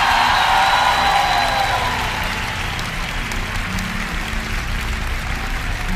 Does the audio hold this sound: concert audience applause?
yes